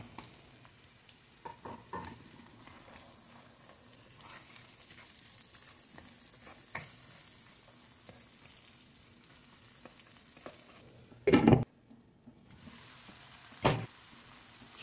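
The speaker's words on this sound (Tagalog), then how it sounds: "Lagay ko na rin ang nakaraming sibuyas, 3 pirasong malalaki." Onions, three large ones, frying in butter in a pan while cooking chicken calderita, a soft steady sizzle with a few louder clatters of stirring near the middle and end, no talking.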